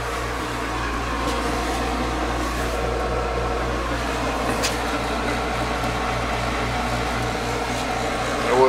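An Economite model E20A gas conversion burner fitted into a former oil furnace rated at 112,000 BTUs in a raised ranch house runs with a steady, loud low hum and roar that stays constant throughout.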